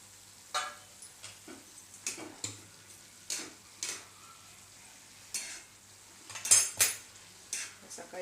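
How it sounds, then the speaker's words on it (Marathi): Vermicelli for sevai upma goes into a pot of boiling water, with scattered metallic clinks of a spoon against the pot and soft stirring over a low hiss. "त्या उकळीमध्ये ह्या शेवया टाकायच्या"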